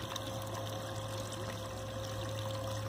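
A solar-powered bilge pump moves pool water in a steady, continuous hum with a constant watery wash, close and unchanging, with no voices.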